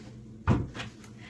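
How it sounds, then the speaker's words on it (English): A door is shut gently at home at night, one soft thud followed by a couple of faint clicks, close and quiet. "gonna close this door so I'll wake nobody up"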